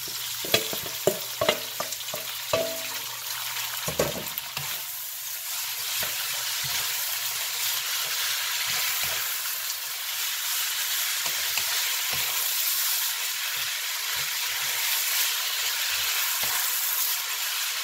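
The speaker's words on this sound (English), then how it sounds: "this has been cooking and I've been stirring it the whole time" Noodles stir-fry in a hot pan, a steady close sizzle under frequent scraping and clacking from stirring, busiest in the first few seconds before settling into continuous frying hiss.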